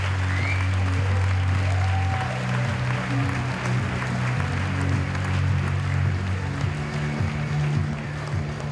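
An audience applauds at a vocational certificate ceremony with steady, sustained clapping over a low hum from the room.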